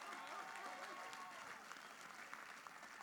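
An audience at a USO military service awards ceremony applauding a Marine corporal: a dense, even wash of clapping from many hands, heard at a distance and fairly faint, holding steady for the whole stretch.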